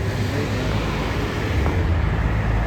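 A London bus moves through busy street traffic, a steady close engine rumble with passing-vehicle noise holding level throughout and no voices.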